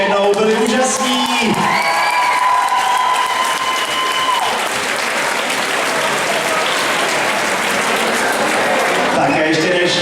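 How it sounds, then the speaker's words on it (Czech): A large audience applauds at a school graduation ball after a dance performance, loud sustained clapping with some cheering, while an announcer's voice speaks over the start. "Taky zatleskejte ještě jednou, byli úžasní!"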